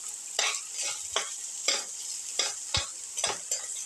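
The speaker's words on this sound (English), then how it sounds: "saute the onion and the shallots together." Onion and shallots sautéing in a pan, a steady sizzle broken by regular scraping stirs of a spatula, about seven strokes in a loose rhythm, close and clear with no talk.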